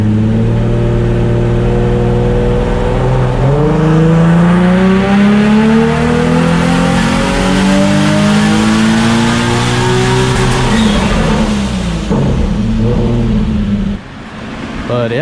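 A street race car with about 700 horsepower accelerates hard on a full pull, its engine roaring loud and close as the pitch climbs steadily through rising gears before the throttle drops off near the end.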